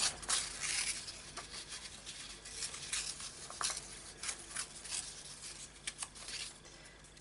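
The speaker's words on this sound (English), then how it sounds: "grab some music sheet paper and rip a bit of this" Sheet music paper is torn by hand in a series of quiet, uneven ripping bursts, close up and with no talking.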